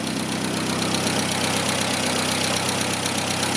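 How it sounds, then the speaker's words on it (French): A 1957 Triumph TR3 engine idles steadily and evenly, a continuous close mechanical hum with no variation and no voices. "on entend le moteur tourner."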